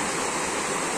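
Steady rushing water of a river stream flowing beside old ruins of a Majapahit-era house in a forest, a continuous broadband wash with no pauses, close and fairly loud throughout.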